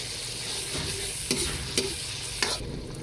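Canned sardines hit a hot pan already sautéing ginger and fish sauce, giving a steady close sizzle with a few sharp clatters of stirring.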